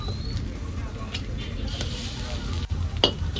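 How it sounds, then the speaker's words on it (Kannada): Eggs frying and stirred in a pan for ghee egg rice, a soft steady sizzle with occasional scrapes and clinks of a utensil, while a person talks over it. "ಮೊಟ್ಟೆ ಬೇಳೆ ತನಕ ಇವಾಗ ನಾವು ಕ್ಲೀನಾಗಿ ಫ್ರೈ ಮಾಡ್ಕೊಳ್ಳೋಣ"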